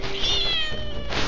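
A cat gives a single drawn-out meow, close and clear, rising then trailing off.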